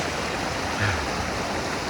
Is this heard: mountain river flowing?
yes